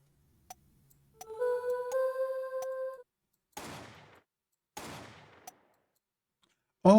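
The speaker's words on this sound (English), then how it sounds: "You can hear the gunshot a little bit for 1" Gunshot effects in the Apollo Justice: Ace Attorney video game: after a brief chime-like tone, several sharp, loud bangs ring out one by one with quiet gaps between them.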